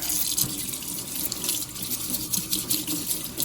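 Steady running water from a kitchen tap, used for rinsing paint brushes, a continuous broadband hiss and splash with no talking.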